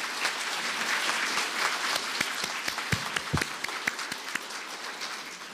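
An audience at an inauguration ceremony applauds warmly, dense and sustained clapping with a few sharper individual claps standing out, filling the whole stretch.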